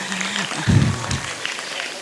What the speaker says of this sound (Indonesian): Tepuk tangan untuk Pak Yusuf.